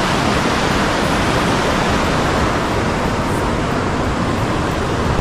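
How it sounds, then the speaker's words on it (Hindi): A mountain stream rushes past near Sonamarg in Kashmir: a loud, unbroken broadband roar of fast water heard close by, steady from start to finish with no other sounds standing out. "पानी की आवाज़ तो ज़्यादा आ रही होगी"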